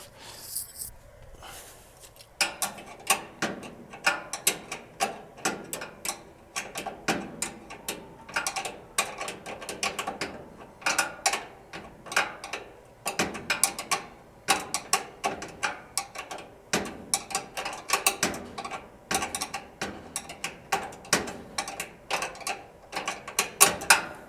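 A ratchet wrench works a fitting loose on a Weber Genesis II gas grill, giving rapid, steady clicking strokes up close that repeat throughout, with no talking.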